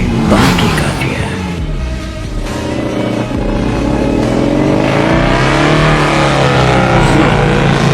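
A quad bike engine revs hard and steadily throughout an animated Free Fire game scene, a loud continuous motor drone with rising pitch sweeps.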